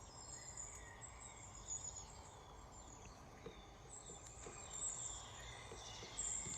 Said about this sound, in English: You can hear the birds chirping.